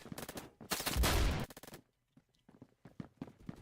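Integrally silenced gun in the video game Phantom Forces firing a loud sustained burst, followed by quieter scattered shots and clicks.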